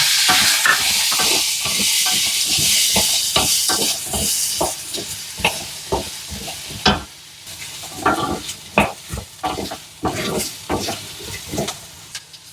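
Small onions (shallots) fry in a pan while being stirred, a steady sizzle broken by repeated close scraping strokes of a spatula that come in an irregular rhythm, with no voices over it.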